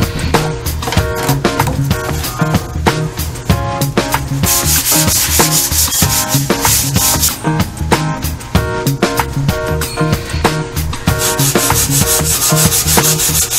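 Continuous hand sanding on wood, a rough rhythmic rubbing and scraping that keeps a brisk back-and-forth pace throughout, loud and close.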